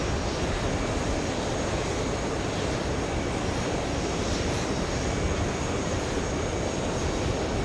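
Jet aircraft at JFK airport, a big airliner such as a 767 near the gates, producing a loud, constant broadband engine roar that holds steady with no voices.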